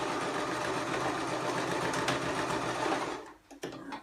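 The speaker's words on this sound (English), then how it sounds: "It's a straight stitch, and I just go back and forth several times to make sure it's not going to fall off." Sewing machine running a straight stitch back and forth on a girl's dress, a fast steady mechanical chatter up close that stops near the end with a few clicks.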